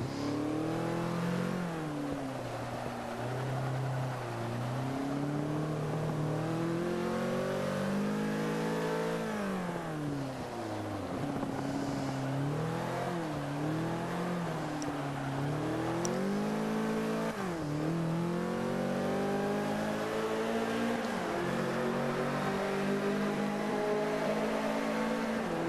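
A race car engine in Forza Motorsport 5 at Road America revs and shifts continuously, pitch climbing and dropping through gear changes and corners, steady and prominent throughout.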